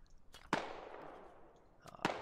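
Two sharp sniper rifle cracks from the video game SquadOps, about a second and a half apart, each ringing out into a long echoing decay, with faint background noise between them.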